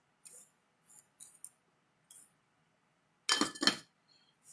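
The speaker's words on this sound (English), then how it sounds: "I'm going to stick this now into the crock pot" A small enameled steel wire piece set into a crock pot, giving several light high clinks followed by a louder pair of close rattling knocks, then faint ticks.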